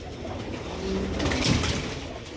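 Old-breed Sialkoti pigeons coo softly in a short, low murmuring call that swells briefly toward the middle, set against a steady background hum.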